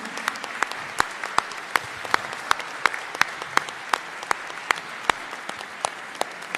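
An audience applauds the mayor of Agrigento at its proclamation as Italian Capital of Culture 2025. Dense, steady clapping fills the hall, with sharp individual claps popping out regularly above the sustained applause.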